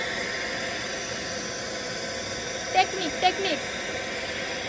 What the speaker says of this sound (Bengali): Vacuum cleaner.